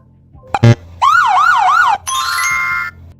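An edited siren effect: a short clipped burst, then a rising and falling wail repeated three times, followed by a steady held tone. Loud and close, with quiet gaps between the parts and no talking.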